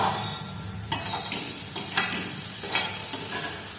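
Bottle gourd greens stir-fried in a pan, a spoon scraping and turning them in repeated strokes over a soft steady sizzle, close and fairly quiet.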